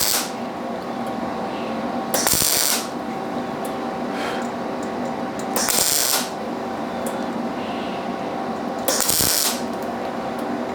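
A ratchet wrench tightens a bolt on a homemade body panel dent puller, in three bursts of rapid clicking separated by pauses, close and fairly loud over a steady workshop hum.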